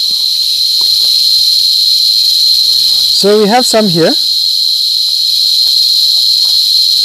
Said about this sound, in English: So this is an adult cicada.